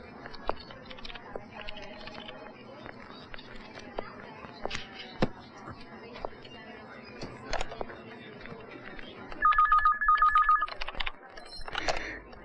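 A telephone rings in a scene from a romantic Hindi film, heard as a short electronic warbling ring late in the clip over background ambience and movement.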